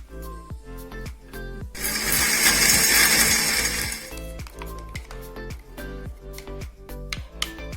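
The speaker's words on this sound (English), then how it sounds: "add a teaspoon of salt and grind it to a smooth paste" A kitchen grinder blends garlic, ginger, cloves, star anise, cinnamon and salt into a smooth paste, a loud whirring burst of about two seconds amid a steady series of clinks and taps before and after.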